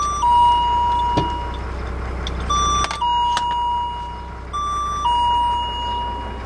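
A truck's low-air-pressure warning sounds while the brake air system builds pressure, a steady two-tone ding-dong chime repeating over a low idling engine rumble, with brief clicks between cycles.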